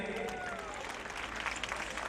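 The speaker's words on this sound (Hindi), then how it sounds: "तालियों का क्रम चलता रहे।" An audience applauds at a public fundraising gathering, with steady, faint clapping from a crowd heard at a distance and continuing throughout the short stretch.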